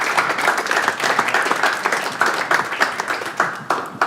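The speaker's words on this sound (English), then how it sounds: "So a massive round of applause for Jared" Crowd at a launch evening applauding a guest speaker, lively continuous clapping with sharp individual claps standing out, steady for four seconds.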